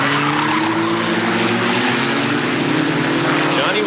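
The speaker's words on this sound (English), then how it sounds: "You can hear the tires squeal." Open-wheel race cars in a 1991 Barber Saab Pro Series race at West Palm Beach squeal their tires under a loud, steady engine roar, with a commentator talking over the din.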